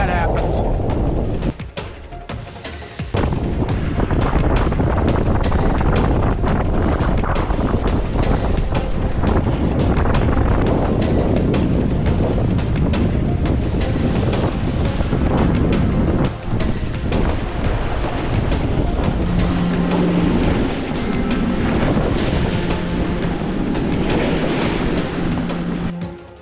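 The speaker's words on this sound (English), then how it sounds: "we've just got these kind of northwest winds right now" Strong northwest wind buffets a racing sailboat at about 4 a.m. as a cold front passes on the way to Pocosin: a loud, continuous roar of wind and water that runs through the whole stretch without letting up.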